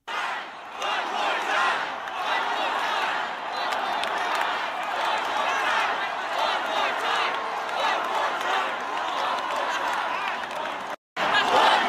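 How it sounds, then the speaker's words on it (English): A large concert crowd at a show in Toronto roars in sustained, dense unison chanting that stays loud and steady for most of the stretch, with a brief drop near the end before surging again. "they're out here chanting one more time"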